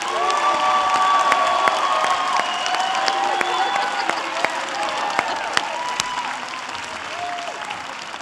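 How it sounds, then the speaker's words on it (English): Loud, sustained applause with some cheering from a crowd at a high school graduation ceremony honoring top students and their parents, steady clapping filling the hall with occasional louder claps and faint voices mixed in. "let's first honor through a round of applause these students and parents who stand before us"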